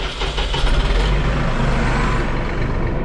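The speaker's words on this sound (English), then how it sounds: "I'm gonna start the tractor." A tractor engine cranks and catches, then settles into a loud, rough diesel rumble close by, with no talking over it.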